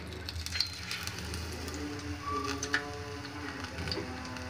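Grape pakoras coated in gram flour batter deep frying in hot oil, a soft continuous crackle and sizzle with scattered pops, fairly quiet and steady throughout.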